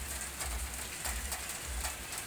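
Heavy rain pours at night outside a mosque in Lamahala, a faint, even hiss of falling water with a low rumbling background throughout.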